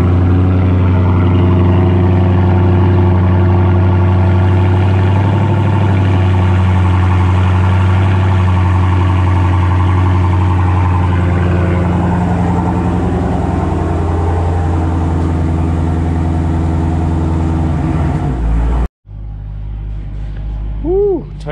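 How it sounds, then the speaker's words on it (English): A 2018 Dodge Demon cold-starting and idling, a loud, steady, deep engine rumble that holds for about nineteen seconds, then drops suddenly to a quieter, lower idle. "Cold start on a 2018 Dodge Demon."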